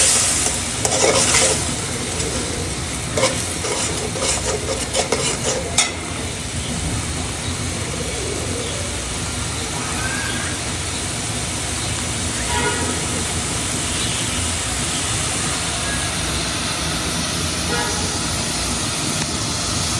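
Ginger garlic paste is sautéed in a pan for a Bengali tengra fish curry, giving a steady close sizzle with bursts of stirring scrapes early on and then an even frying hiss.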